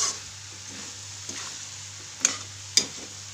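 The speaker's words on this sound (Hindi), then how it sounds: "आलू डालने के बाद अच्छे से हम इसको चलाते हुए मिक्स कर लेंगे" Potatoes are stirred with spices in a frying pan, giving a soft, low sizzle with a few scraping sweeps and two sharper clinks of a spoon on the pan near the end.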